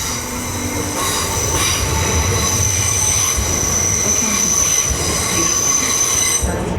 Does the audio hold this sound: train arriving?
yes